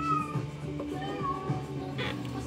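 A cat meows near a person who is talking, a few short mewing calls with tonal, wavering pitch mixed in with the voice.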